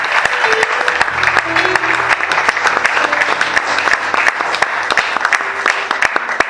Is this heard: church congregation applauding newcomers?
yes